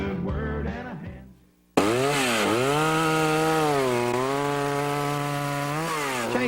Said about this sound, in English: Chainsaw demonstrations are all basically the same, loud.